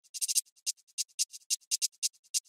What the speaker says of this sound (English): So the hi-hat turns into more of a shaker.